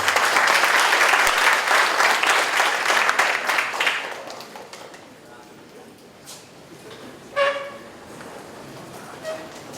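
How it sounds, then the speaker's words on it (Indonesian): An audience at the Bandung Strategic Leadership Forum claps to welcome a speaker, a dense burst that fades after about four seconds into room noise and a few scattered sounds. "tepuk tangan buat Kang Bima dulu"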